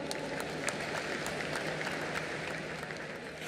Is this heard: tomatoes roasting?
no